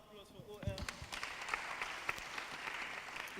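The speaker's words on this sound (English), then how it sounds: "A round of applause for OL." An audience at a church young professionals forum event applauds, scattered clapping building quickly then sustaining at a moderate level, with a voice speaking briefly at the start.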